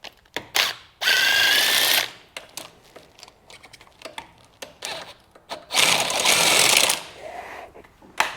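A ratchet turning a 14 swivel socket backs out head bolts on a Yamaha 350 Warrior, making two bursts of fast, close clicking separated by quieter tool handling and light knocks, with no talking.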